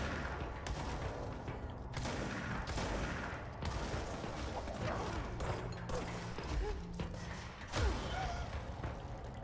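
Gunfire and explosions in the action video game Control, a dense continuous barrage of shots, thuds and blasts with a louder boom near the end, no one speaking over it.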